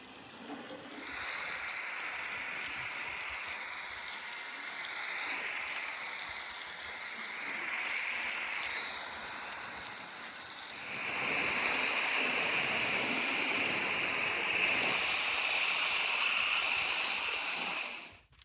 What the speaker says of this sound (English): Going to attach foam nozzle, set the sprayer to setting E right there